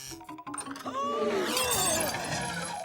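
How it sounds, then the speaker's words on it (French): A cartoon vase shatters, ringing glassy crashes and tinkling shards spreading out over a couple of seconds after a few brief knocks, with a short voice before the break. "Oh, excusez-moi, je crois bien que j'ai cassé quelque chose."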